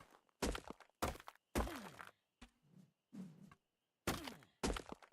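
In ARK: Survival Evolved, a character strikes a resource with the wrong tool, giving a series of sharp, hollow thunks in irregular bursts with short silences between the hits.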